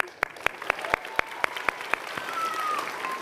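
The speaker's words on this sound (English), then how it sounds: "we can clap." A small group claps a steady beat of about a dozen sharp, evenly spaced claps at the Global Amazing Shake 2024 event, with a soft murmur of voices beneath.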